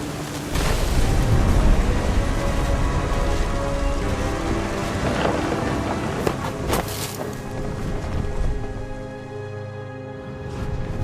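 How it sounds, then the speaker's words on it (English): Heavy rain pours steadily in the game What Remains of Edith Finch, a dense, loud wash with rumbling thunder rolling beneath and a few sharper cracks midway before it eases slightly. "The thunder sounded much too close and full of angry power."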